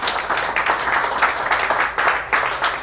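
A church congregation applauds during a sermon, a steady wash of many hands clapping at moderate distance, continuous and fairly even for the whole stretch.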